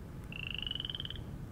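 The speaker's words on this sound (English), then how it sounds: "I could clearly hear that irritating frog croaking away at some corner of the bungalow" A frog croaks from a corner of a bungalow in a steady, rapid pulsing trill lasting about a second, moderately near and clear above a low background rumble.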